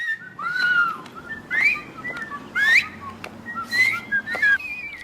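A person whistles a series of bright, sliding melodic phrases close to the microphone, several rising and falling notes in a lively rhythm with short pauses between them.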